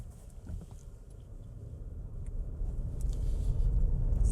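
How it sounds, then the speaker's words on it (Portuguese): A VW Virtus 170 TSI manual sedan rolls over cobblestone paving at about 30 km/h, producing a continuous low tyre and suspension rumble that grows steadily louder from inside the cabin. "vamos já entrando naquele trecho de paralelepípedo e ver qual que é o comportamento da suspensão e da rodagem desse carro"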